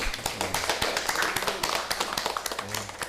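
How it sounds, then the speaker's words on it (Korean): A church congregation at an Easter Sunday service in Subic, Philippines claps in a quick, regular rhythm, sharp close taps repeating through the clip, with faint tonal sound, maybe music or singing, underneath. "영광의 박수 올려드리겠습니다."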